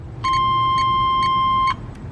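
A car's lights-on warning beep chimes repeatedly in an even rhythm for about a second and a half, then stops abruptly.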